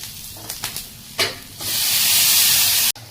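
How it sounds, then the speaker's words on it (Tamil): A few light clinks of stirring, then tamarind water hits a hot pan and a loud, steady sizzle and hiss rises and continues before cutting off. "இப்போ புளி தண்ணியை ஊற்ற போகிறோம்."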